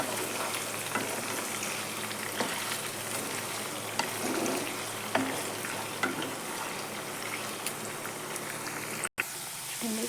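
Chicken pickle sizzles and fries steadily in a pan on low heat while being stirred, with soft scraping taps over the continuous crackle.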